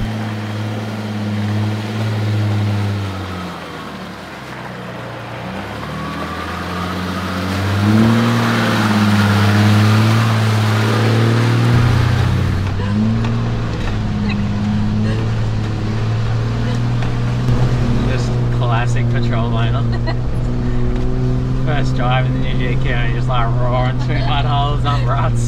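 A 1995 Nissan GQ Patrol 4WD with a TD42 diesel engine and manual gearbox, driven along with a steady engine drone and shifting revs, while people talk over it throughout.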